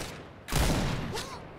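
Burst of gunfire in the online shooter Point Blank, a loud dense fusillade that erupts suddenly after a quiet lead-in and sustains for over a second.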